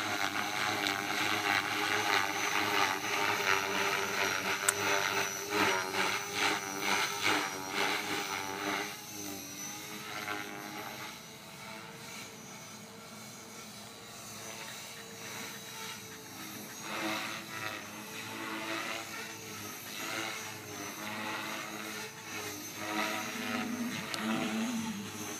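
A radio-controlled Trex 450 helicopter with a 3GX unit, flying on a 20C battery pack at 80% throttle, gives a loud, sustained high-pitched rotor and motor whine that rises and dips as it maneuvers, with no voices.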